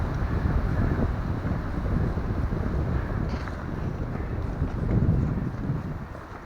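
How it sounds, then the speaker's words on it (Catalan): Strong wind buffets the microphone on a mountain trail, a continuous low, rumbling roar that swells and eases without pause and with no voices. "I el vent."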